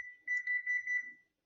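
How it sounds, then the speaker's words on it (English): An oven beeps when switched on: one short, clean electronic tone followed by a quick run of four pulsing beeps, close and clear against silence. "I have a oven that beeps every time you try to turn it on and cook something."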